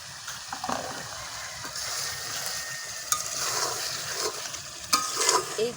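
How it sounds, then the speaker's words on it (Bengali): Country chicken curry being stir-fried in a pan with a little water, for a chicken and pointed gourd curry, gives close, steady sizzling and repeated scraping stirring strokes with occasional louder clanks, with no talking. "অল্প অল্প করে পানি দিয়ে একটু কষা নেব।"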